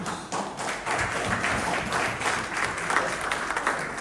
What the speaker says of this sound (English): please give them a round of applause for their deliberate commitment